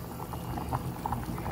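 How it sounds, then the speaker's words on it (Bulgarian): A pot of vegetables bubbling unevenly on an electric hob set to 4, boiling in irregular pulses with soft bursts over a steady low rumble and hiss, close and fairly quiet, with no talking. "Тя ври така на тласъци, дано да се свари."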